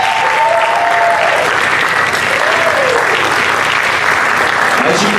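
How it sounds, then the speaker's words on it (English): A large audience at a Performing Arts Academy senior recital breaks into loud, sustained applause for the students, a dense continuous roar of clapping with a few faint cheers and voices mixed in. "let's give all our Performing Arts Academy students one more round of applause."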